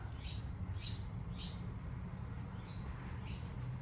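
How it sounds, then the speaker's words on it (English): Birds squawk in a city garden, about five harsh high-pitched calls spaced roughly half a second apart, moderately close, over a steady low outdoor rumble. "I bet you can hear the birds. I bet everyone can hear the birds."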